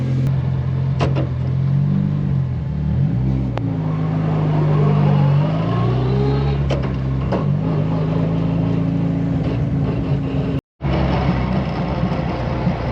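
A turbocharged Honda S2000's engine idles steadily close by after warm-up, a low even hum with a faint whir, settling to a slightly lower pitch partway through.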